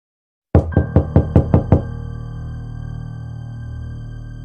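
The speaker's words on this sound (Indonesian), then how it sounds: "Terdengar suara ketukan pintu dari balik kamar itu." Seven quick, sharp knocks on a door in an even rapid rhythm, loud and close, followed by a low ringing hum that lingers after the knocking stops.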